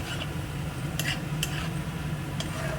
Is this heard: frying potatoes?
yes